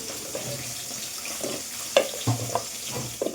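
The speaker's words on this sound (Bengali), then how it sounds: "আর কাঁচা লঙ্কা আগে ভেজে নেব" Green chillies frying in hot oil for a Bengali fish curry give a steady close sizzle, with a few clinks and stirring knocks from a utensil and no talking.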